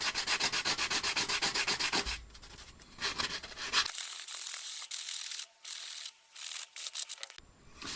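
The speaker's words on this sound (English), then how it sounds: "Sanding sponge attacks mostly the edges and corners and just gives it that last little bit of attention." Steady scratchy rubbing of a sanding sponge on the metal edges and corners of chuck jaws, rapid back-and-forth strokes, close and loud, with brief pauses between passes.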